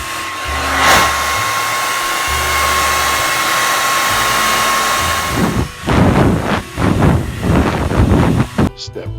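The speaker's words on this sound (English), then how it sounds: "Dry the area with a hair dryer." A hair dryer blows loudly and steadily on a damaged wall patch, its whir broken up toward the end by gusty, sputtering bursts as it is moved around.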